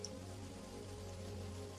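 Rain falling over an open field, a steady soft hiss and patter with a low hum beneath, continuous and without voices.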